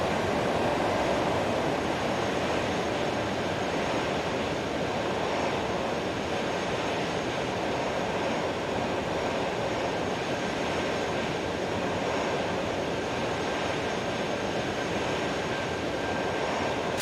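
Steady, loud cruise roar from the engines of an Airbus A330 in the X-Plane 12 flight simulator, a continuous broadband drone with a faint high whine, heard alone for the whole stretch.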